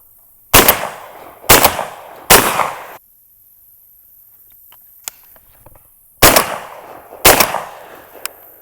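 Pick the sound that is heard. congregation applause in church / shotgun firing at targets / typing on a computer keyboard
shotgun firing at targets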